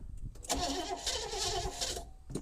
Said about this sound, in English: It will fire up and run when it fires up and runs.